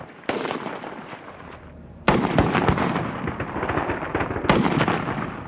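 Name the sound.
rifle shots fired from prone unsupported position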